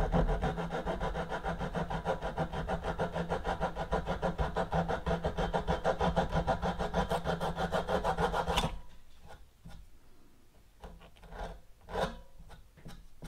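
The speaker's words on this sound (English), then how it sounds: "And then we're going to use our flush cut saw." A flush cut saw draws rapidly back and forth through wood on a drafting table restoration, a steady rasping stroke rhythm close and loud for about nine seconds, then stopping, followed by a few quiet handling knocks.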